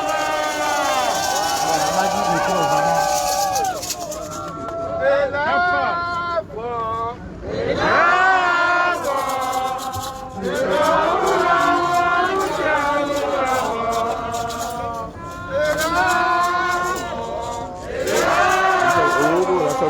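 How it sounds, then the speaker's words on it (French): A large crowd gathered in Brussels from all over Europe, a dense swell of many voices chanting and calling together, loud and sustained with brief dips. "La foule nombreuse venue de partout d'Europe."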